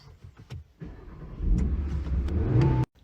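An Audi RS Q3 with a StarLine i96 CAN-BUS immobiliser fitted starts after a few clicks, then its engine settles into a steady, fairly loud running rumble before cutting off abruptly.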